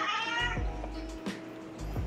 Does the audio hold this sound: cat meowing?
yes